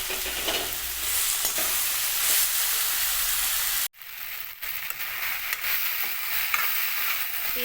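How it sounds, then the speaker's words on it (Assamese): Ginger-garlic paste sizzles and crackles in a hot pan while being stirred, cooking for a dish of taro stolons with fish; a steady close frying hiss with a brief drop midway, no talk. "এতিয়া মই আদা নহৰু পেষ্টখিনি দিম।"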